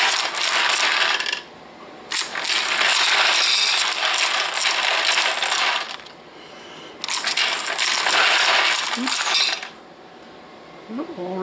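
Metal bullets dumped by the handful into a 3D printed bullet feeder for an XL650 reloading press, in two long loud clattering pours of rattling, jingling metal, each a few seconds long with brief pauses between.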